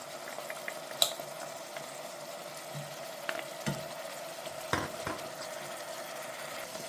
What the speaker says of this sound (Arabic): نقلوهم مع بعض